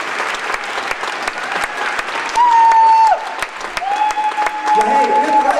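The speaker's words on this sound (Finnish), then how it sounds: "nyt raivat aplodit kaikille näille upeille tanssijoille" An audience at a dance competition applauds the dancers, a dense wash of clapping that swells in the middle, with a sustained tone and a voice briefly over it.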